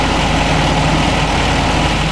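A Fendt Farmer 310 LSA tractor idles in Farming Simulator 2015, a steady loud low diesel rumble with even vibration and no change in pace.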